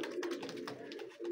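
Pigeons coo softly and steadily at a pigeon market in Khalishpur, Khulna, with low, rolling calls that are faint and close, overlapping in a continuous murmur.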